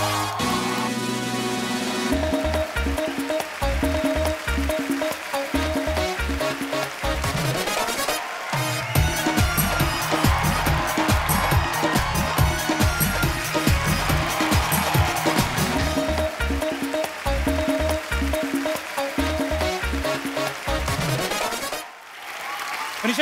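A studio audience claps loudly and steadily for a welcomed guest on the Kapil Sharma Show, with dense sustained applause under music; the clapping breaks off near the end.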